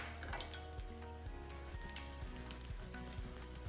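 Black cardamom, nigella seeds, cloves and green chilli sizzling in hot oil, a steady crackling fry with small pops, fairly quiet and close, with some background music.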